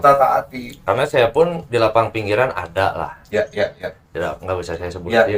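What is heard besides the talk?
None of the usual background noises is heard.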